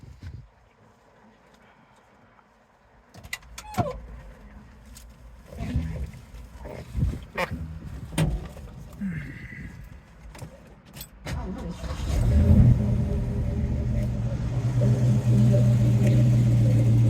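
A 1972 Mercury Cougar with a Q-code 351 Cobra Jet V8 and four-speed turns over in bursts of cranking and clatter, then catches and settles into a loud, steady, rumbling idle that holds to the end.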